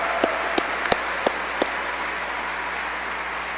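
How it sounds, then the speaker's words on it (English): Audience applause for award winners at a university convocation and faculty meeting: a steady wash of clapping from a large crowd with a few sharper nearby claps standing out, sustained without voices. "Join me in giving a round of applause for all of our award winners and recipients and recognees today."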